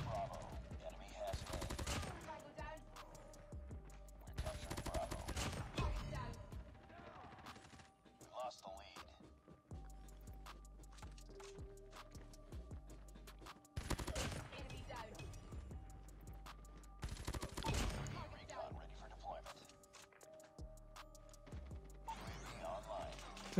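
Bursts of rifle fire from the Peacekeeper in Call of Duty Mobile, several loud clustered volleys spread across the clip, with game effects and brief talk between them.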